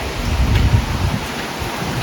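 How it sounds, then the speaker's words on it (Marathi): Heavy rain pours down steadily with low, rolling thunder rumbling underneath, a dense and continuous wash of sound with no voices. "आज पाऊस खूप भरलाय,"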